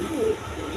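A pigeon at a farm gives a short low coo, close and moderately loud over a faint steady background hum, with no talk.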